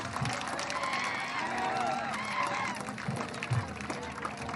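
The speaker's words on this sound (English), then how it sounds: "Give them a huge round of applause." Applause from an audience at a school annual day celebration, a steady broadband wash of clapping and crowd noise that holds fairly evenly throughout, with a few louder low thumps mixed in.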